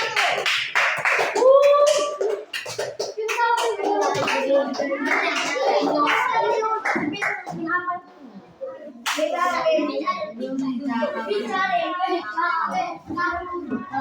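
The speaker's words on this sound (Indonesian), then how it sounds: "Tepuk tangan buat kelompok 1." Children in an elementary school classroom clap their hands together in a burst of applause, mixed with lively kids' voices chattering and calling out nearby.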